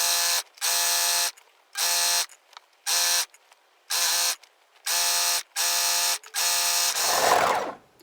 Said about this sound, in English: Overlocking the inseam is very quick and easy.